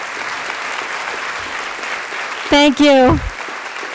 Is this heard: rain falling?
no